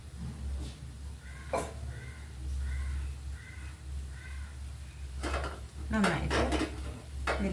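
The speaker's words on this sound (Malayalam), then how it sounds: "നന്നായിട്ട് ഇതിൽ മിക്സ് ചെയ്ത് വെക്കാം." A spoon scrapes and knocks in a pot while a ground spice mix of pepper, nutmeg and poppy seeds is stirred, giving a few sharp metallic clinks and scrapes over a low steady hum, with a crow cawing repeatedly in the background.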